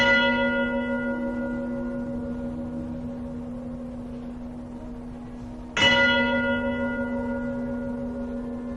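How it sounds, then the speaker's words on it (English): Two church bell strikes ring out, one at the start and another near six seconds, each with a bright metallic onset and long, slowly fading harmonic hum, loud and close with no voices. "bells chimed within the structures"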